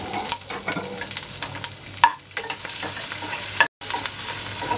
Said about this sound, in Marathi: त्याच्यात मी टाकणार आहे सिमला मिर्च. ही सुद्धा मोठ्या गॅसवरच परतून येणार आहे.